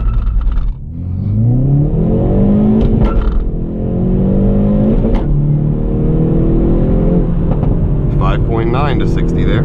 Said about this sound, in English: Clutch out, first gear, and then you just gotta floor it, like literally push it down as fast as you can.